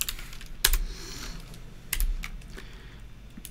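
Keys clack on a computer keyboard while code for a NinjaTrader trading indicator is typed, two short bursts of close, crisp taps with quieter keystrokes between them, no voices.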